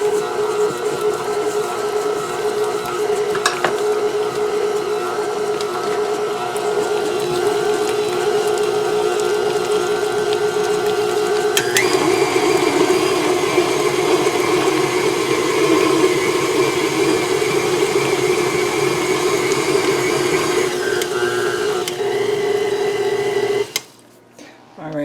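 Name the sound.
KitchenAid stand mixer mixing cookie dough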